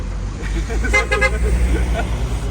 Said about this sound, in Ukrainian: сигналять.